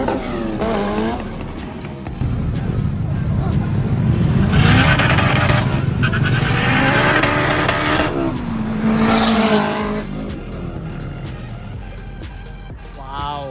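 Honda DC5 engine revving hard at a car and motorbike show, its pitch climbing and falling through the revs as the tires squeal and skid, loud and near, with the crowd shouting and chattering throughout.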